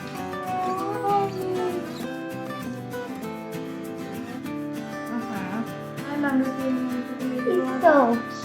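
A cat meows repeatedly in a home office, with drawn-out, wavering cries rising near the end, while people talk over and between the calls.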